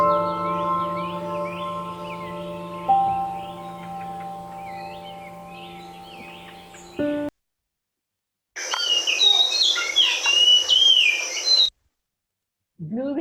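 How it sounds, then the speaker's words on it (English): A blue whistling thrush in the Uttarakhand hills gives a short burst of clear, sweet whistled notes, loud and close, after a stretch of soft music and a brief silence. "Blue whistling thrush."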